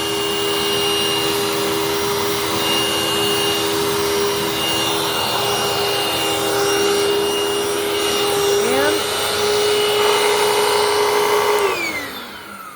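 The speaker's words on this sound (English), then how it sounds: "Look at that insane carpet agitation." A vacuum cleaner roars steadily up close, its motor pitch shifting as it works the carpet, then winding down at the end.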